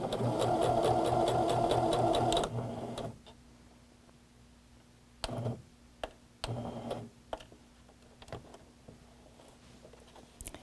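A sewing machine runs steadily for about two seconds stitching the length of a bound buttonhole, then stops, followed by a few faint handling clicks and taps.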